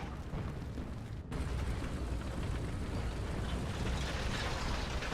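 SU-100P self-propelled gun firing in War Thunder realistic battle, one loud sharp boom followed by a sustained rumbling wash of engine and battlefield noise.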